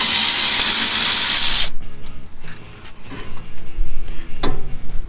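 Wrench or ratchet working on a Nissan's brake caliper to reach the wheel stud, with a few scattered metallic ticks and clanks after an opening burst of broadband noise, close and fairly loud.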